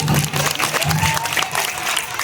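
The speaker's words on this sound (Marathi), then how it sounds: "सगळ्या मुलांसाठी एकदा परत टाळ्या वाजवा" An audience at a Women's Day gathering claps for the children after a dance, a short dense burst of applause with a voice faintly mixed in beneath it.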